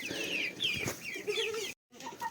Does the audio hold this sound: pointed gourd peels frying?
no